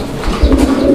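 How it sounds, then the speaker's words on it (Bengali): A breeding pair of pigeons coos softly and close by, a brief low throaty call over a steady background hum. "দর্শক বন্ধুরা আপনারা দেখছেন যে কবুতরের জোড়াটা কত সুন্দরভাবে ব্রিডিং করছে"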